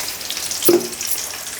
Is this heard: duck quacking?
no